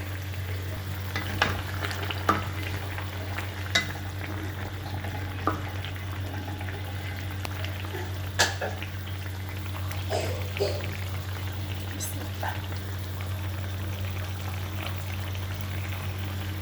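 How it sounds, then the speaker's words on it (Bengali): A bottle gourd and fish curry simmers in a covered pot, a steady soft bubbling and hiss with occasional faint clicks and pops under a constant low hum. "তরকারিতে বলক এসে গেছে এবার আমি মাছগুলো দিয়ে দেব"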